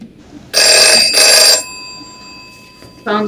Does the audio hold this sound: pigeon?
no